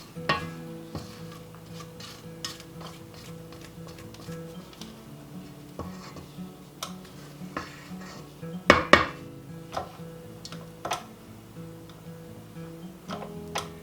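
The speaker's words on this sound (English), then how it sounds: "Scrape the bowl, make sure we're getting everything mixed in real well." Utensils clink and scrape against a mixing bowl in a cycle of irregular taps and knocks, with a sharper cluster of clatters near the middle; close by and moderately quiet, with no voices.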